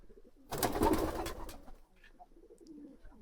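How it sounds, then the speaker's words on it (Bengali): Domestic pigeons cooing and calling just after release from their loft following rain, a short burst of fluttering and coos near the start, then softer low cooing continuing faintly. "অনেকটা সুন্দর লাগে কবুতরগুলো অনেকটা ডাকাডাকি করে"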